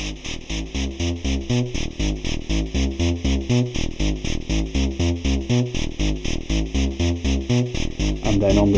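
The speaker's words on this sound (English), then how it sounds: "I've got a bass line running on the beat step" A modular synth bass line sequenced by a Beat Step, from a 4046 VCO through a VCF, thumps out a fast repeating pattern of buzzy filtered notes, loud and steady with a constant hiss behind it and no talking.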